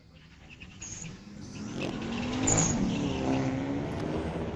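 Street-legal drag race at Mission Raceway Park, a 2023 Hyundai Elantra N against a 2008 Lexus, engines droning and swelling in pitch as the cars pass at moderate distance, peaking midway then fading slightly.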